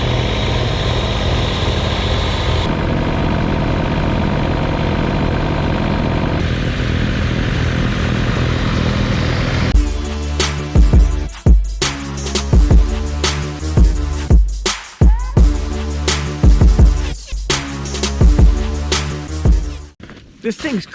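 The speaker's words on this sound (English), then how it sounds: "Today, we're snow blowing a driveway with a John Deere 2032R subcompact diesel." John Deere 2032R subcompact diesel tractor with a 54-inch snow blower clearing a solid-ice driveway: steady engine drone at first, then loud, close, uneven mechanical rattling and grinding with a pulsing rhythm, while someone talks.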